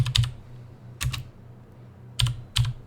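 A computer keyboard is typed on in four short bursts of close, crisp key clicks separated by brief quiet gaps.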